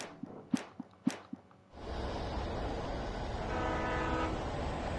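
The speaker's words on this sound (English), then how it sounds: "I can hear a train." Passing train in the video game Alan Wake Remastered: a few sharp clanks and knocks, then a sustained rumbling roar of rolling cars that swells and holds, mid-distance, with no voices.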